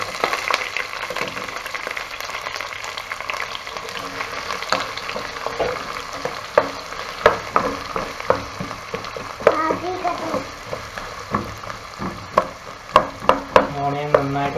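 Chopped onion frying with browned coconut in a pan for a chicken dish, continuous sizzle with frequent sharp spatula scrapes and taps growing busier toward the end, close by.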